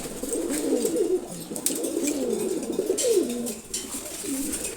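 Several male racing pigeons kept together in a loft give low, rolling coos one after another, close and continuous over a faint background hiss.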